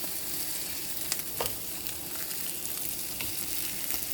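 Frozen, pre-cooked chicken sausage patties fry in a pan for breakfast, giving a steady close sizzle with a few soft clicks and taps over it and no voices.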